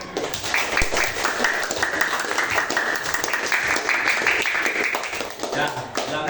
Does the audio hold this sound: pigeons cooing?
no